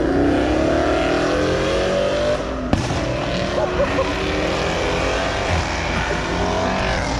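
A muscle car at a car meet rumbles and revs loudly close by, its engine roar holding steady throughout with one sharp crack partway through.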